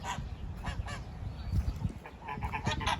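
Loud, insistent duck calls repeat in quick honking bursts close by at an outdoor wedding-photo location, several birds overlapping in a continuous noisy chorus.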